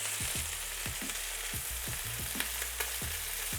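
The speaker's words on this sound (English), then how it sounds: "we sear the other side" Fillet steak searing in a hot pan, a continuous soft sizzle with repeated scraping or pressing strokes at a quick irregular rhythm, close and fairly quiet, no voices.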